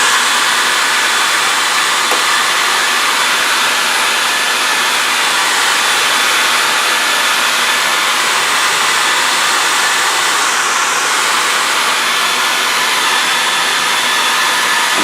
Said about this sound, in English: So I got my trusty hair blow dryer that I stole from the wife.